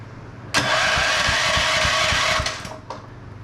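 A TrailMaster Mini XRX go kart's small engine, on choke and cranked by a 2 amp charger instead of a battery, catches abruptly and runs at a loud, even, buzzing idle for about two seconds before cutting off.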